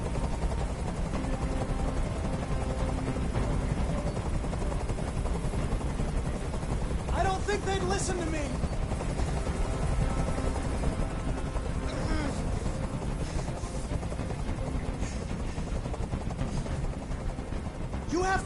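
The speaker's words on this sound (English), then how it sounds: "Tell that helicopter to get out of here." A helicopter hovers in a video game, a steady loud rotor roar filling the whole stretch without a break, with a voice speaking over it and brief sharp bursts breaking through partway.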